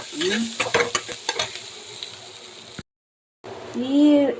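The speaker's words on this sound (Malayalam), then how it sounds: "തേങ്ങ ഇട്ട് കൊടുത്ത് അത് ഒരുവിധം ഫ്രൈ ആവുന്നവരെ ഇങ്ങനെ ഇളക്കിക്കൊണ്ടിരിക്കണം" Chopped coconut fries in a pan for a Kerala sardine curry while being stirred, giving a steady close sizzle with scraping strokes, broken by a short silent gap. A voice speaks over the frying.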